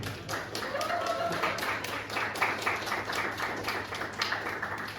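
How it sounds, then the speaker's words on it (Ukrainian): Audience applause at a live comedy show in Kharkiv, steady clapping from a crowd with scattered individual claps standing out, moderately loud and continuous. "оплески"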